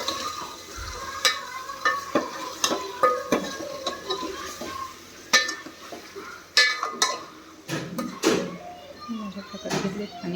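Eggs frying in a pan are stirred and scraped in a home kitchen, with crackling sizzle and sharp utensil knocks against the pan while someone talks over it.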